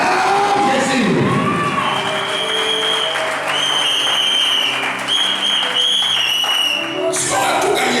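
A worship crowd cheers and applauds loudly and continuously, with shouts, whistles and overlapping voices rising in sustained acclaim, a brief lull near the end before the noise surges again.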